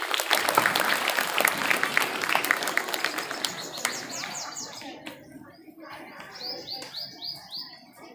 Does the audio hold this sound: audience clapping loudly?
yes